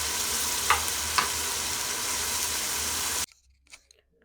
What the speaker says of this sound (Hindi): बस लहसुन अदरक में गोश्त अच्छी तरह फ्राई हो चुका है